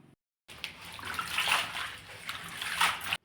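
Leafy wild vegetables are washed in a basin of water, with sloshing and splashing that starts after a brief silence. The splashes swell and fade in irregular surges, close by and moderately loud.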